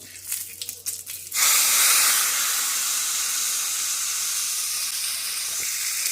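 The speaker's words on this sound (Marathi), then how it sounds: "आपली छान अशी खमंग फोडणी झाली आहे, ती आपण चटणीत टाकून घेऊ" Hot curry-leaf and asafoetida tempering poured into a sweet-sour chutney bursts into a loud, sudden sizzle that holds steady as a bright hiss for several seconds, with no talking.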